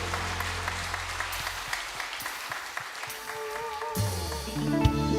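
A church congregation claps together during a Sunday worship service, a steady wash of applause over sustained organ or keyboard chords, with the music swelling louder near the end.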